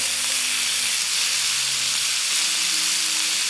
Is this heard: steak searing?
yes